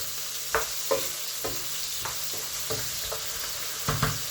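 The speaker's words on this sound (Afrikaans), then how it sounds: "So ek wil net gou 'n bietjie uitjies braai en dan gaan ek die patties braai" Onions frying in a pan while being stirred for burgers, with a steady low sizzle broken by a series of short scraping stir strokes at an irregular pace; no one speaks.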